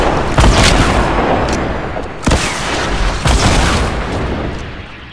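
Cannon fire and explosions in Fortnite: several heavy booms spaced a second or two apart, each a loud broadband burst with a rumbling tail, up close and with no talk.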